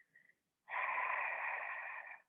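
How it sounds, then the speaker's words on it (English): A long, steady hissing ocean breath through the nose with a constricted throat, breathy and close, following a brief softer breath; no talking. "that's kind of what ocean breathing is, but both on the inhale and the exhale"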